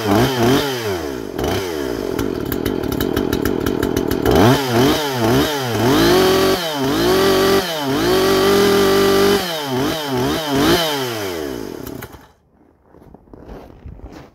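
A Makita chainsaw runs close by, its engine revving up and down repeatedly in rising and falling bursts. After about twelve seconds it drops to a quieter idle.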